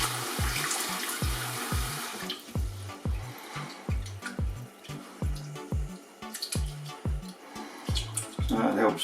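Rice being rinsed under a running kitchen tap to wash off the starch, with steady water flow over rhythmic swishing and sloshing as the grains are agitated in the bowl, close and fairly soft, with a voice talking over it.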